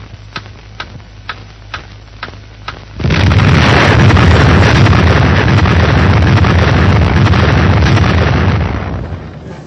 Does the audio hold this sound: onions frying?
no